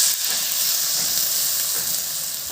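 Pork fries in a pan for Assamese-style pork curry, a loud continuous sizzle and hiss close up, steady throughout without talk.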